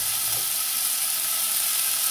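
Fresh tomato and garlic sizzle in a pan for Bolognese sauce, a loud, continuous bright hiss of frying that stays even from start to finish.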